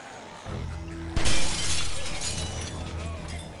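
A gunshot shatters a skylight's glass in The Walking Dead video game, a sharp crack followed by a loud burst of breaking glass and falling shards over a low, steady background hum.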